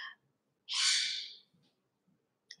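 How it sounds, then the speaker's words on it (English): A pet parrot gives one loud, harsh squawk lasting under a second, close by, between faint short calls and quiet background sounds. "Right, let's see Loud Bird now"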